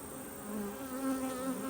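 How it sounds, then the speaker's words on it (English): Dense, steady buzzing of many honeybees around an open Langstroth hive during an inspection, with a continuous close hum that fills the space and no voices. "A lot of bees."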